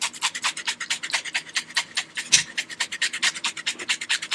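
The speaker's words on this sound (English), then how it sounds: "Now we're gonna take some shampoo and give it a good little scrub." A soiled beauty blender sponge, soaked in vinegar, scrubbed with shampoo, giving close, quick, rhythmic wet squishing rubs at an even pace throughout.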